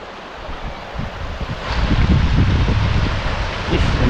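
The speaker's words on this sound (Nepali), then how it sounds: "अलिक बढेको पनि रहेछ है नदी चाहिँ" A rain-swollen hillside river rushes past in a steady, loud broadband roar, close and continuous, swelling slightly louder midway, with wind buffeting the microphone.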